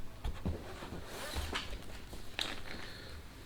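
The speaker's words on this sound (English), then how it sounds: "let me quickly get the bags out of the box before we start building" Lego building bags lifted out of the box for a Lego Defender set, heard as close, soft plastic rustles and crinkles with a few light knocks spread across a few seconds.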